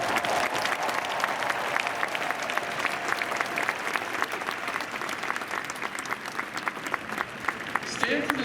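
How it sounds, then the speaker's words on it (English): An audience at a Stanford Father's Day ceremony applauds the fathers: sustained, even crowd clapping with scattered louder claps, heard from a distance in a large space, with faint voices mixed in. "let's give the dads in particular a round of applause"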